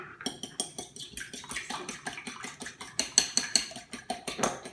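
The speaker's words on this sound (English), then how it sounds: "I need another fork so I can mix my egg." A fork beats an egg in a bowl with rapid, rhythmic clinking taps, close and quiet, continuing steadily throughout.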